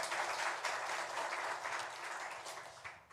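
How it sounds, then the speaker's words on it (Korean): A church congregation applauding during a Sunday worship service, a dense, even wash of clapping that is fairly faint and sounds distant, holding steady for a few seconds and then tapering off. "우리 하나님께 영광의 박수 올려드리겠습니다"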